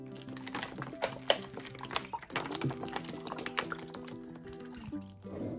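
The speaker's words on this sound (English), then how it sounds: "So now I'm just adding 4 bottles of water." Water from four bottles is poured into blended orange in a large pot, making a steady, close splashing and gurgling fill that runs continuously with small drips and splashes.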